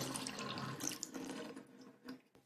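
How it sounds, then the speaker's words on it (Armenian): Water runs from a tap left open, a soft continuous splashing stream with small drips and gurgles, fairly quiet and heard alone. "Ինչն է աղմկում այնտեղ։ Այդ ես մոռացել եմ ծորակը փակել"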